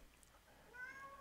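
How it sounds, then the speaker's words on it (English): A faint, short cat meow rises briefly out of a quiet background hum, distant and soft. "if you can hear my cat in the background,"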